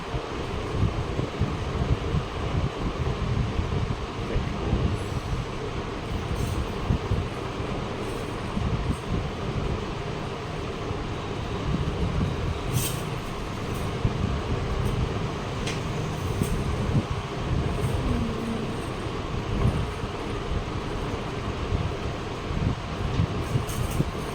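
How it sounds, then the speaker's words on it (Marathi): Steady rumbling and rattling of a moving train fill the clip, with constant wind-like noise and no voices. "म्हणजे चालीची ट्रेन आहे."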